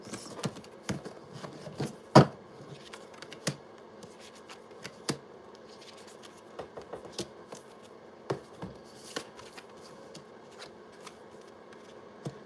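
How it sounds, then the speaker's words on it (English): Tarot cards are shuffled by hand in a quiet room, with soft riffling, scattered slaps and taps as the deck is cut and squared, close and intermittent with no speech. "I'm going to shuffle one time"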